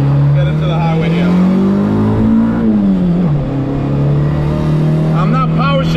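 A Honda Civic EG with a D16 engine pulls hard under VTEC on a highway on-ramp, its loud, steady in-cabin engine drone rising in pitch and dipping briefly at a flat shift before climbing again.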